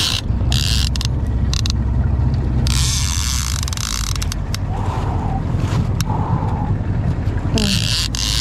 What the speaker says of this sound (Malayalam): മീനിന്റെ പുറകെ ബോട്ട് അടിക്കുവാണ്.